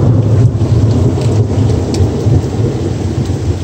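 A monsoon thunderstorm at night, heavy rain pouring loudly and steadily with deep rolling thunder underneath, close and constant throughout.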